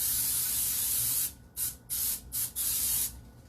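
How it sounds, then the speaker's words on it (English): Non-stick cooking spray hisses onto a cake pan for a lemon-cake pudding in four or five short, loud bursts separated by brief pauses, with no talk over it. "I'm just spraying it with a non-stick spray."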